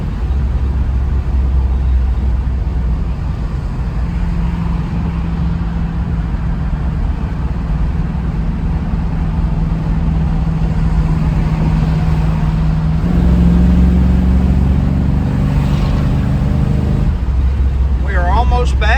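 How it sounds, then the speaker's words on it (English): A 1970 Dodge Challenger R/T muscle car running and driving, a loud steady low engine drone with a shift in pitch midway, heard from inside the car with a voice talking over it. "Just an excellent running, driving car."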